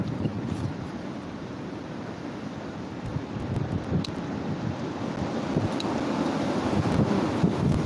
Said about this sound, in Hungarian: Mocsári szél van.